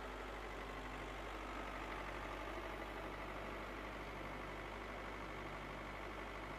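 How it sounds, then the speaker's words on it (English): A low, steady tractor engine drones on without change, a constant rumbling hum with no voices over it. "The tractor brought the animals to the farm."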